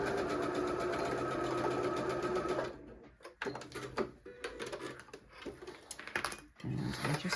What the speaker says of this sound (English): And then you can just sew down the rest of the bag.